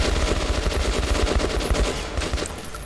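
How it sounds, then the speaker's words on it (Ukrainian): Rapid sustained machine gun fire in the shooter game Metro: Last Light, loud and continuous bursts of close shots with no talking over them. "Хороший кулемет."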